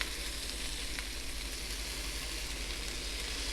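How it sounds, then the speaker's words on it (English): Prosciutto and garlic sizzle in a frying pan in a home kitchen, a steady, even hiss of frying that holds without a break, close and moderately loud, with no voices over it. "Turning my heat down a little because everything's real sizzly and I don't want my garlic to burn"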